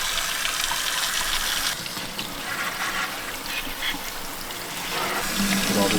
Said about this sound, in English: just spray everything down with the hose